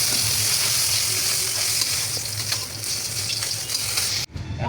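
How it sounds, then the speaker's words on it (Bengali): Small tangra fish fry in hot oil in a pan, a close, continuous crackling sizzle that cuts off abruptly near the end. "আমার ট্যাংরা মাছটি ভাজা হয়ে গেছে গিয়ারি আমার হালকা করে ভাজছি"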